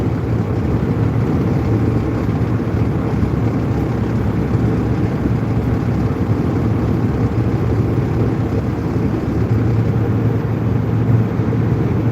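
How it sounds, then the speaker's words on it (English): A steady, low engine rumble drones throughout, loud and unbroken, like a heavy truck's engine brake holding a constant growl. "The Jake's on right now, it's very low."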